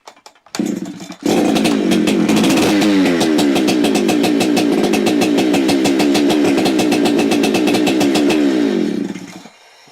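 A Husqvarna 372XP chainsaw starts after a brief pull, then runs loud and steady at high revs for several seconds, close by and alone, before cutting off.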